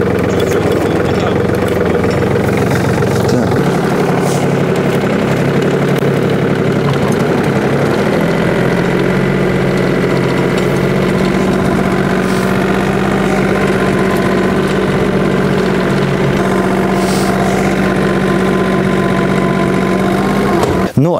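A mini tractor engine runs steadily nearby, a loud droning idle with a pitch shift partway through as the revs settle into a lower, even hum.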